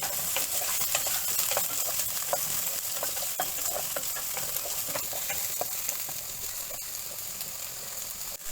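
Onions and garlic with green chillies sautéing in a pan for instant sambar, a steady close sizzle and crackle running throughout with occasional stirring scrapes and no voices.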